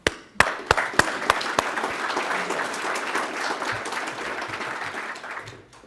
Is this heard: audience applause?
yes